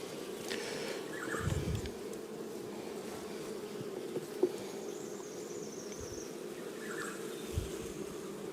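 Honeybees hum steadily over an opened honey super of a healthy hive, a close, even buzz that carries without pause, with a few faint taps and handling sounds.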